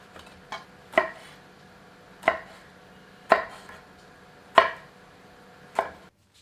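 A knife chops eggplant into pieces on a board in five or six sharp, evenly spaced strikes about a second apart, close and clean against a quiet background, with no speech.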